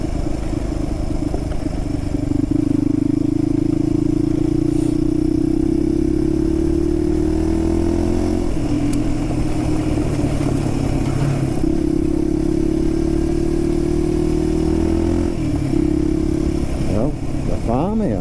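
A Suzuki DR250S motorcycle rides the Kielder Forest Drive on a forest road, its engine droning steadily close up, pitch rising and dipping through gear changes and throttle, with wind rush throughout.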